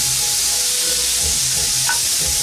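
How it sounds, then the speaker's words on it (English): Bacon frying in a fajita pan, a loud, even, close sizzle with a faint low rumble underneath and an occasional light pop, no voices. "fry this bacon off."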